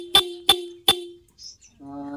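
A stock Yamaha Sniper 155 motorcycle horn gives three short, sharp toots in quick succession, followed by a brief squeak and then a longer steady honk.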